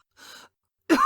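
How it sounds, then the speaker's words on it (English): In a dramatic reading of Crime and Punishment, a short breathy exhale is followed by a single harsh, hollow cough, close and loud. "A terrible hollow cough interrupted her words."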